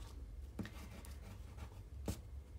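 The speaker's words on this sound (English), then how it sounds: "I'm just going to use this glue pen" A wet glue pen with a broad nib scrapes and rubs across paper in short, soft strokes, faint and close, with a couple of sharper swipes and no talking.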